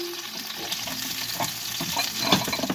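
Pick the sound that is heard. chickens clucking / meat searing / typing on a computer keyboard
meat searing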